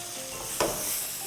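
Frozen peas drop into melted butter with cumin in a pan, giving a short burst of frying hiss and stirring over a steady background sizzle.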